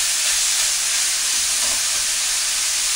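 Water with oil in it boils in a pot for lasagna pasta, giving off a steady, close hiss with no break or talking.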